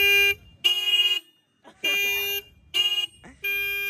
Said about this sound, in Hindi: Single horn but loud.